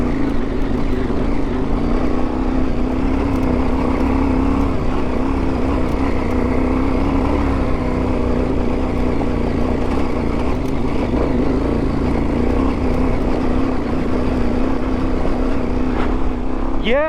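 A KTM motorcycle on a Colorado backcountry alpine pass trail, its engine droning loudly and steadily throughout with wind rush and slight pitch wavering as the throttle shifts.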